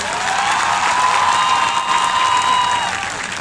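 Audience at a college event with a Punjabi poet as chief guest breaks into steady, full applause, loud and sustained for a few seconds with some crowd noise mixed in.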